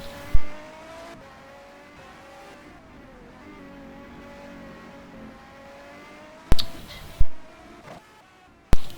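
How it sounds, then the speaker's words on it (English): A race car engine in a racing video game drones and shifts pitch steadily through a fast lap, with several sharp, loud thumps or impacts breaking in near the start and toward the end. "Nuno Pinto doing another fast lap, and with traffic behind him"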